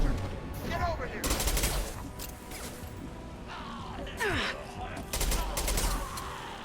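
Video game gunfire in Mass Effect, with bursts of rapid shots and crashing impacts separated by short lulls, mixed with whooshing effects and faint in-game voices.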